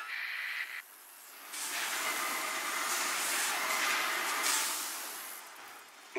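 A train rumbles through a tunnel in StarCraft II, a steady hissing rush that swells in the middle and tapers off toward the end, heard alone without speech.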